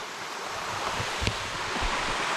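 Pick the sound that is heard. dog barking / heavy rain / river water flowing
river water flowing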